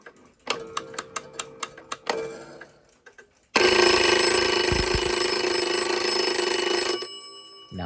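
A Waterbury kitchen clock's alarm goes off. A run of sharp, evenly spaced mechanical clicks as it winds up is followed by a loud, sustained bell ring lasting several seconds, close and alone, then stopping abruptly.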